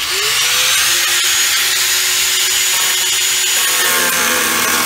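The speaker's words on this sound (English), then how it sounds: "the new plan is to cut this pod down about 1 inch and see if we can make it work this time" A power tool cuts down a custom kick panel speaker pod for a 1970-72 Chevelle, a loud, continuous grinding and sawing whine that holds steady for the whole stretch, close up, with no talking.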